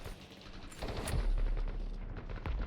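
Light machine gun fire in the video game BattleBit rattles out as dense, booming bursts with a heavy low rumble, loud and close, and no talking.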